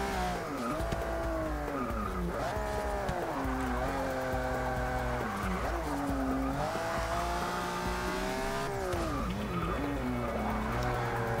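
A 1986 Lamborghini LM002 in Forza 6 slides with repeated tire squeals and skidding over a rising and falling engine roar, loud and continuous with no talking.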